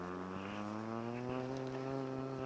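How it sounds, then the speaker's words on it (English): A swarm of thousands of bees buzzes steadily around destroyed beehives, a dense, continuous drone with layered wingbeat hum that stays close and loud throughout, with no talking. "Now there is thousands of bees flying around without a home."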